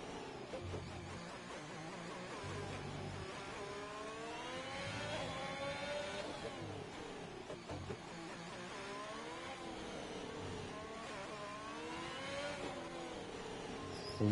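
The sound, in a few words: Ferrari Formula 1 car engine in F1 2021 video game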